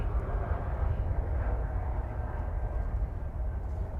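An Envoy passenger plane takes off at DFW Airport, its engines a broad, steady low rumble that holds at a moderate distance without rising or fading.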